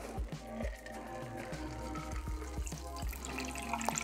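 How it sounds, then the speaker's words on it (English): Drink poured into a cup filled with ice for a Mexican Mule, a steady close liquid gurgle with scattered clinks and cracks of ice throughout. "And then we're going to pour that into the cup."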